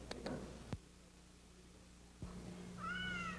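A house cat gives two short, clear meows near the end, after a couple of soft clicks over quiet room hiss.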